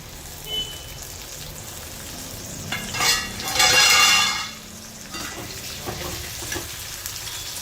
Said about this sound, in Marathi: पाच मिनिट छान असं परतून घ्यायचं आहे.